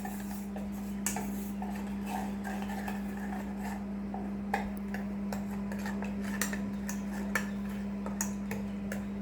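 Sorghum flour batter being mixed and its lumps broken up, with a soft repeated clinking and tapping of a utensil against a vessel over a constant low hum, no speech.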